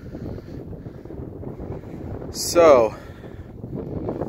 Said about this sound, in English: I know it's a little windy up here.